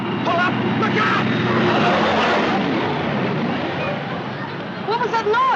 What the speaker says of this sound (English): It sounded like a big plane.